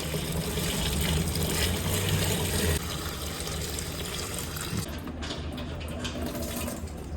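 Gasoline streams steadily through a paper funnel into a vehicle's fuel tank, a continuous liquid pour that thins and becomes more broken toward the end, with no talking.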